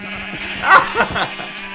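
Sheep bleating inside a video game, a few short wavering bleats around the middle of the brief moment over a steady low game hum.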